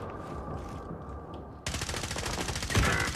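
Rapid automatic gunfire bursts from the video game Warzone, loud and sustained after a quieter opening stretch of background game ambience.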